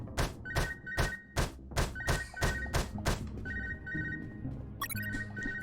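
An in-game phone rings in the video game UnMetal: a repeated electronic beeping tone plays over several loud, rhythmic thuds, followed by a short burst of chirping tones near the end.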